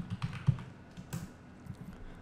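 Typing on a computer keyboard to name a layer during Photoshop work, heard as a short run of soft, uneven key clicks with one firmer tap near the start, close and quiet with no talking.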